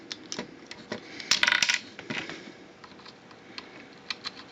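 A plastic toy turret part from a Leader Class Brawl transforming figure is handled and flipped over, giving a rapid run of light clicks and rattles, loudest in one brief cluster, close-up and without speech.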